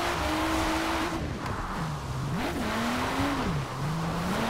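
A car drifting in Forza Horizon 4, driven with a Logitech G920 wheel, gives a steady, close engine drone whose pitch rises and dips as the revs swing through the slides, with no talk over it.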